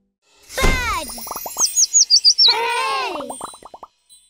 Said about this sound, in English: Bird, tweet, tweet, tweet.